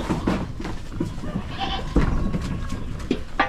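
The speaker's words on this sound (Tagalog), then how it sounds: "May isa dito tayong kambing na lalaki." A male Anglo-Nubian goat named George bleats in short, nasal calls, close by, with several repeated cries and faint background farm noise.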